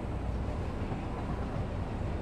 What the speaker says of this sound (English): this train that for some reason just runs a circle